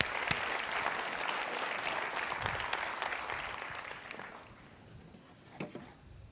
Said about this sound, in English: Let's have a round of applause for whoever this is.